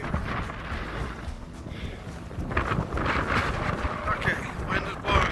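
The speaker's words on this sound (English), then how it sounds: "wind is blowing" Wind gusts buffet the microphone at Ubehebe Crater, a loud continuous rumbling roar that swells and surges throughout, with a voice speaking beneath it.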